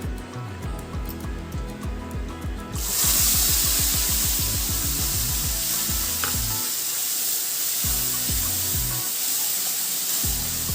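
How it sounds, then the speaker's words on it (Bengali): Asafoetida and garam masala hit hot mustard oil with a sudden loud sizzle that swells and holds as a steady hiss, preceded by rhythmic tapping and followed by clattering stirring strokes over the continuing fry. "গরম মশলা আর সামান্য এই যে হিং ফোড়ন দিলাম ফোড়ন দিয়ে একটু ভালো করে নাড়াচাড়া করে নিয়ে"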